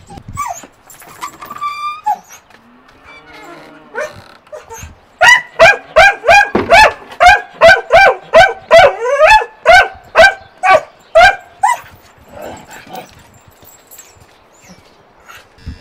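Farm dog at a cattle ranch in Palacioruiz, loud close barking in a rapid regular series of about fifteen yelps, with whimpering and softer whines before and after.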